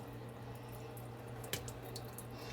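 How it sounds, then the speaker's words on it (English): Quiet, steady flow of water draining from cooked spaghetti, with a faint single splash or drip partway through and no talking. "I'm going to let them drain out now, y'all. I'm going to get all that old water through there."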